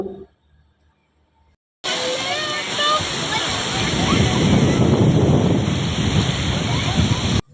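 Ocean surf breaking on a beach on a summer holiday, a steady loud wash of waves with wind buffeting the microphone, starting abruptly after a near-silent opening and building slightly toward the end.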